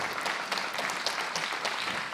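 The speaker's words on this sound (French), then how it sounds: "Oui, vous pouvez applaudir." Applause from an audience at a sustainability label award ceremony, a brief dense burst of clapping at moderate loudness, steady for its whole short length.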